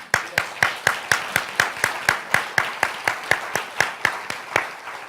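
Audience clapping in a regular, even rhythm as panel experts arrive on stage at a university evening dialogue event, with steady sharp claps from a moderate-sized crowd, no voices over it.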